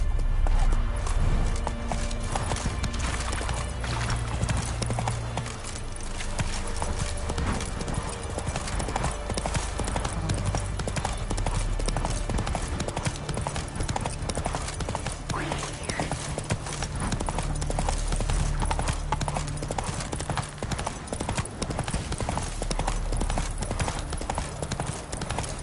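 A horse in a video game gallops without pause, its rapid hoof clip-clops drumming continuously for the whole stretch, with a faint voice and game sounds underneath.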